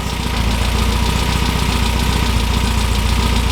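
A 1967 MGB GT engine idling close by, a loud, steady mechanical rumble with a regular ticking pulse throughout and no voices.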